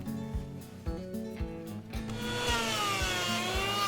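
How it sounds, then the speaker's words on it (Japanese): Keyaki wood table leg being shaped by hand, with rhythmic rasping and shaving strokes close by, a steady scraping texture building through the second half. "形を削って整えていきます。"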